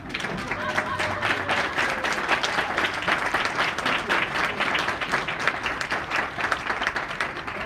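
A standing audience at a digital health leadership summit gives dense, sustained applause to welcome the Surgeon General on stage. The clapping is loud and continuous throughout, with a voice heard faintly through it.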